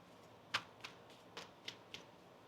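Five quiet, sharp clicking riffles spaced about a third of a second apart, like a deck of tarot cards being shuffled, in an otherwise hushed room.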